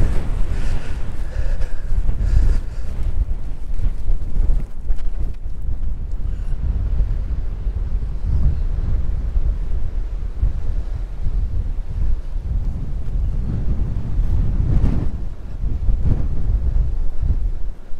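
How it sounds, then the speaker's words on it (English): Wind on the open Hill of Tara in Ireland, a loud continuous buffeting roar against the microphone with gusts rising and falling throughout and no speech. "I know it's windy out here"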